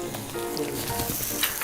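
Duck meat frying in a Teflon pan over high heat gives a steady, dense sizzle and crackle, close and continuous with no pauses.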